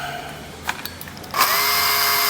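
Bolt being removed on a Kawasaki KLX140L rear shock area: a couple of faint clicks, then a loud steady power-tool whir that starts abruptly and runs to the end.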